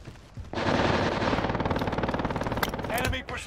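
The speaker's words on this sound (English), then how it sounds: "He's shooting me." Enemy automatic gunfire in Call of Duty Warzone on Rebirth Island, a loud rapid stream of SMG-style shots lasting about three seconds, with a player talking over it.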